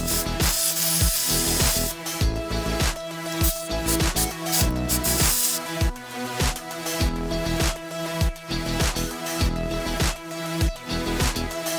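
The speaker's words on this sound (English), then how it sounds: "Clean any oil spills using some brake cleaner." Brake cleaner is sprayed to wash oil spills off a 3.0-litre V6 Volkswagen Touareg during a service, heard as loud, close hissing sprays in repeated short bursts with brief gaps.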